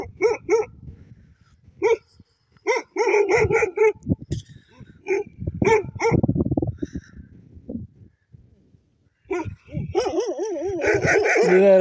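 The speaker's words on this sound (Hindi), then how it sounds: "देखो कितने दहशत वाले कुत्ते हैं" Guard dogs at a house bark fiercely and repeatedly, with bursts of loud close barks, yips and whimpers separated by short pauses, and a faint voice in the background.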